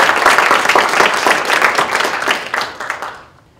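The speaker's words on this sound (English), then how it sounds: "let's just give them all a big round of applause" A conference audience gives the ABA staff a big round of applause, loud and dense clapping from many people that holds steady and then fades to silence in the final half second.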